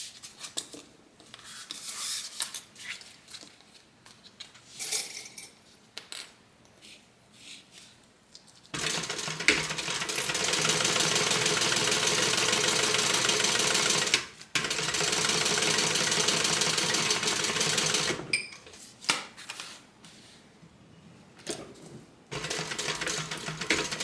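A sewing machine stitches down the short edges of a folded slip pocket for a water bottle tote, with a long steady run of close mechanical whirring broken by one brief pause, plus some quieter handling before and after.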